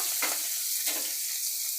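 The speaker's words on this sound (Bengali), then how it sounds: "মাছ কড়া করে ভেজে নেব" Tangra fish frying crisp in hot oil, a close, even sizzle broken by two brief scraping stirs of the pan.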